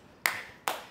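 Two sharp hand claps, about half a second apart, close and fairly quiet, given as self-applause after a home workout.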